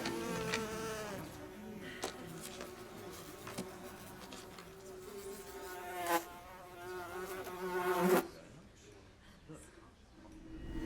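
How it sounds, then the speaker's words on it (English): Flies buzz loudly and continuously at close range in a period drama setting, a droning hum that wavers in pitch before cutting off near the end, with faint voices underneath. "I dare say the buzzing is frightfully loud."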